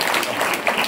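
Crowd applause at a temple fair religious gathering with a swami in Khanapur, a steady dense wash of clapping throughout, fairly loud and continuous with no break.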